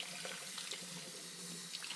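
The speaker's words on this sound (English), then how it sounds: "So first we need to rinse this quinoa." Tap water runs steadily over quinoa being rinsed in a kitchen sink, a soft continuous splashing hiss with faint trickling detail, fairly quiet and with no one talking.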